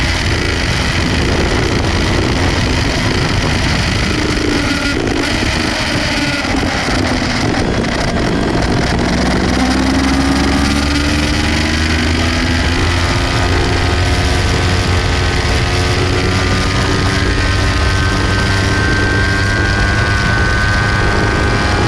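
Kawasaki Ninja 250 motorcycle engine revving hard on the Ebisu racing circuit, a loud continuous whine climbing steadily in pitch over wind buffeting, with no talk.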